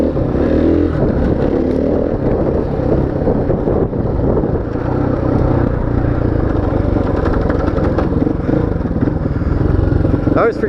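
A motorcycle ridden on a bouncy road, its engine droning loud and steady throughout with wind rumble and rattling; no distinct clutch sound stands out.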